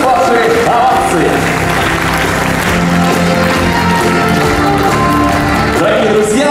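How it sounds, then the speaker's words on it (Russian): Audience ovation at an alumni forum of a university institute: dense, loud clapping runs steadily through the whole stretch, with a faint tonal backing beneath it. "Еще раз ваши овации."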